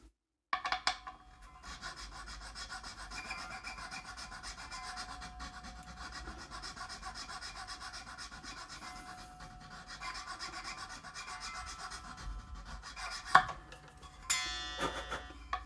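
A fine nut-slot file rasps back and forth in a steady, continuous rhythm on the nut of a Gibson Les Paul Studio, close and clear, then pauses and ends with a few brief knocks and scrapes.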